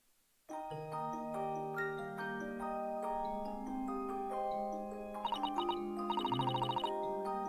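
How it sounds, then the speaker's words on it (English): A large disc music box in the video game Dai Gyakuten Saiban plays a bright, chiming melody of plucked metal notes that ring and overlap, with faster twinkling runs toward the end. "What's this big adorable box? It's a music box."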